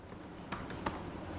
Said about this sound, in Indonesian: ini mengetik ulang password yang tadi